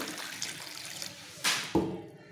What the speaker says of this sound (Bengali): এই পাতাগুলোকে ভালো করে ধুয়ে নিতে হবে।